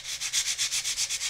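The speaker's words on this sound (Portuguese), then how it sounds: "vou lixar um pedacinho aqui para vocês verem e eu vou passar" Sandpaper rubbed by hand over a small keychain piece, lightly and without pressure, making a rhythmic scratchy swish repeated about ten times in quick even strokes, close up and alone.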